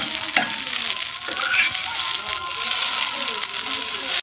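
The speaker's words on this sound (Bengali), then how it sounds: "এবারে মিট মশলাটিকে দিয়ে একবার ঘেটে নিন।" Egg chowmein tossed with meat masala in a pan, loud scraping stir strokes over a constant sizzle, with a few clanks of the utensil against the pan.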